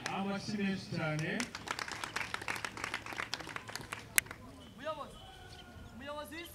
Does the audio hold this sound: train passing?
no